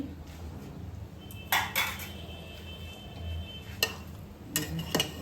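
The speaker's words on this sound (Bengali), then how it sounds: "এই যে বিরিয়ানি কমপ্লিট হয়ে গেছে, এই এখন ঢাকনি খুলছি" The metal lid comes off a pot of mutton biryani with several sharp clanks and scrapes, heard close and clear over a faint background hiss, ending in a quick cluster of rattling metallic taps.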